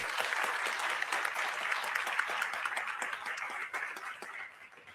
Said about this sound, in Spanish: les pido un aplauso para nuestros panelistas